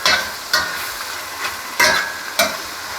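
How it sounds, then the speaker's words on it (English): Shrimp sizzle and fry in a hot pan under a constant hiss, broken by four sharp scraping tosses at irregular intervals, close and loud with no talking. "our shrimp are starting to brown up. I'll give them a quick little toss."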